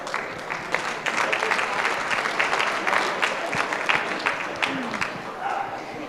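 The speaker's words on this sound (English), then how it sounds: "Give a big round of applause to these intermediates." Enthusiastic clapping from a crowd for the intermediate participants at a district 4-H show in St. Paul, Alberta, a dense and steady burst of applause that carries on for about six seconds with faint voices mixed in.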